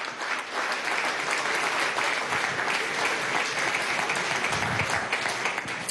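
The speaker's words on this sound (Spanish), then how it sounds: "Recibamos con un aplauso a Piedad Córdoba" Sustained applause from a large crowd, steady and dense clapping throughout with no voices standing out.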